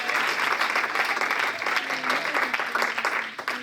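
Loud applause from a church congregation clapping for the Lord during a service, a thick, sustained clatter of hands with a faint voice running underneath.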